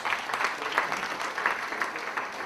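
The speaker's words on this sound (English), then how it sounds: "Let's give me a round of applause" An audience at a charity gala dinner auction claps after a winning bid, a short, moderately faint round of applause with steady pattering hands, heard from a distance in a large room.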